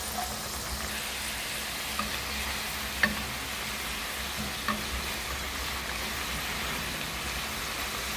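Homemade potato wedges fry in a pan with a steady, soft sizzle that holds throughout, broken by a few faint clicks and pops.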